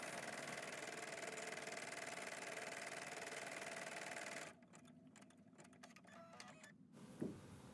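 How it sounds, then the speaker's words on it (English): An embroidery sewing machine stitches out a placement outline for an in-the-hoop puppet design, its needle chattering in a rapid, steady mechanical rhythm up close for over four seconds before stopping into quiet clicks and a faint knock. "So the first step here is to sew out the placement stitch."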